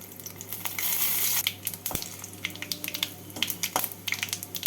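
Three dried red chillies, two bay leaves and a spoon of white cumin hit hot oil for tempering a mung dal with fish head: a short bright hissing burst, then scattered crackles and taps.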